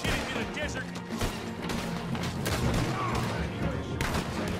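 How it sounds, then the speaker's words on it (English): Rapid gunfire from the Western shooter game Red Dead Redemption 2: a volley of sharp repeated shots with booming reports over a dense game soundscape, continuing throughout, with voices faintly in the mix. "they see me. I'm opening fire."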